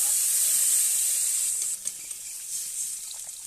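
Pointed gourd with spices and bay leaves sizzles loudly and steadily in a pan after water is added, a close, continuous hiss that softens slightly partway through, with a few faint utensil clicks and no talking.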